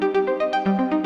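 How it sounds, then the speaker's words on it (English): U-He Repro-5 Prophet 5 synthesizer notes fire rapidly through an arpeggiator, a bright, buzzy tone pulsing in short even steps over about a second, clean and alone. "which is a Prophet 5 synthesizer,"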